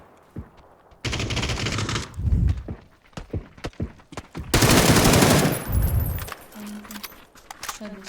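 Bursts of rapid video game gunfire crackle loudly in two long volleys, with scattered single shots and clatter between them; a voice murmurs briefly.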